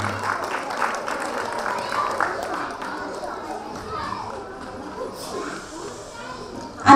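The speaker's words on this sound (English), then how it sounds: "Big applause for Anuj." A crowd of parents and children applauds a child at a preschool annual day prize giving, with a dense patter of claps alongside children's chatter and background voices. The clapping fades a little before a louder burst at the end.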